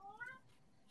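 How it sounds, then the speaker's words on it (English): A domestic cat lets out a single short, rising meow, fairly faint and nearby, lasting under half a second before fading out. "Omar, That's my cat."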